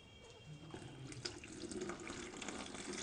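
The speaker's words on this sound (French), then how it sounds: "nous passons au filtrage de l'eau qu'on a ajouté au mélange œufs, post-parasitiques et fibres végétales" In a lab, water from a mixture of parasite eggs and plant fibres runs through a filter with a faint, steady trickling pour that grows slightly stronger toward the end.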